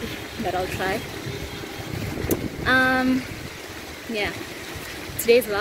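Loud flowing water and passing taxi traffic form a constant rushing background while someone talks close to the microphone over it.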